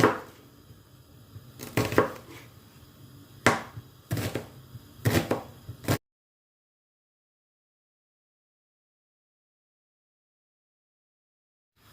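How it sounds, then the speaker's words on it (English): A medium-sized onion is chopped finely on a board, with several sharp knife strikes in quick bunches over about six seconds, then silence. "I've got a medium-sized onion, which I'm going to chop up finely."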